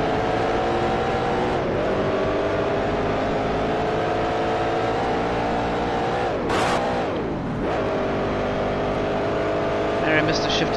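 A Grand Prix Legends race car engine drones loud and continuous in the video game, its pitch climbing through the gears with a few sharp drops and rises at the shifts, including one fumbled shift.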